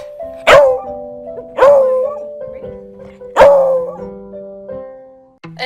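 A beagle barks on command indoors, giving three loud, separate, drawn-out barks with a short yelp at the end, close and clear with no talk over them.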